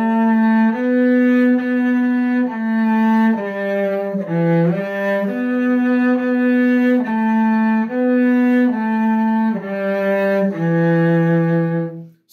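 Solo cello plays a passage from a Suzuki Book 3 positioning etude, a steady line of sustained bowed notes with a few quick shifts, close and clear with no talking.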